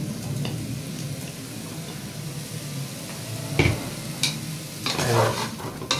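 Chopped red pepper sizzles and fries in a pan while being stirred, a soft steady hiss broken by a few scraping clicks of the utensil against the pan, close and moderately quiet.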